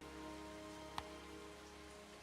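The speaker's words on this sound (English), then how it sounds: "As the rain is coming." Steady rain falls in an episode of the anime Monster, a soft, even wash of drops with one brief sharp tap partway through and no voices.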